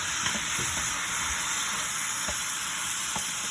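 Food sizzles and fries steadily in a pan in a home kitchen, a constant close hiss broken by a few soft scraping stirs.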